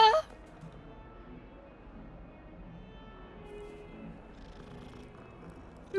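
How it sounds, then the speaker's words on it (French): A cat purrs in the video game Hogwarts Legacy, a soft, steady low rumble that runs quietly through the whole stretch, with brief louder game sounds at the start and end. "Oh bébé chat."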